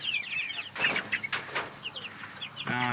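Meat chickens in a chicken tractor cluck and chatter close by in short, repeated bursts, with a few louder squawks and a rustle of movement among the birds.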